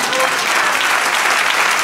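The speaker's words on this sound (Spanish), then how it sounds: "Dale un aplauso al Señor." Loud, dense applause from a church congregation fills the whole stretch, steady and close, with no pauses.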